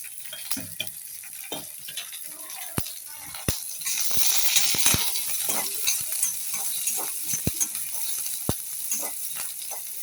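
Onions sautéing in a pan give a soft continuous sizzle, broken by sharp clicks and scrapes of the stirring spoon against the pan, close and fairly quiet.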